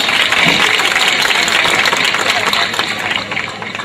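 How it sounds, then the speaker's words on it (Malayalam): Audience at a Malayalam comedy stage show clapping in a dense, steady wash of applause that fades slightly toward the end. "എല്ലാവരും കൈയടിച്ച് പ്രോത്സാഹിപ്പിക്കണം."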